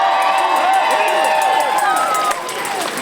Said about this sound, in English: So let's give Cleveland a round of applause if we can.